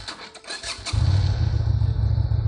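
A 2022 Lifan V16S motorcycle engine cranks with a short whirring starter, then catches and settles into a steady, loud low idle rumble close by.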